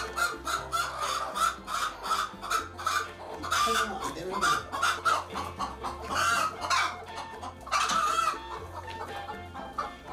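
Cheonggye chickens on a Korean cattle farm cluck busily and continuously, a dense chorus of close, overlapping clucks with occasional crowing mixed in.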